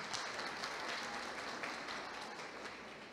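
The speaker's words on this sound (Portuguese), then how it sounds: "Uma salva de palmas!" Applause at a business award ceremony, a sustained dense clapping from a crowd, even and continuous, heard at a moderate distance.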